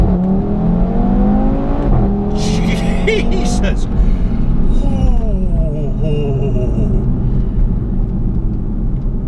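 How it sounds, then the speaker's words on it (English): A 2018 Audi TT RS in dynamic mode pulls hard at full throttle from a rolling start in first gear, its engine note loud and close as it climbs steeply and shifts upward through rising sweeps, while a voice exclaims in the cabin. "we should just nail the throttle, yeah?"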